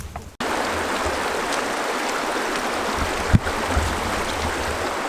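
A wilderness stream rushes steadily over rocks in spring, a loud, continuous close-up wash of flowing water with a brief knock partway through.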